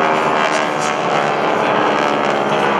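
GEICO Skytypers propeller aircraft fly past in formation at the 2012 Rhode Island ANG Open House airshow, a loud continuous engine drone filling the clip while an announcer talks over it.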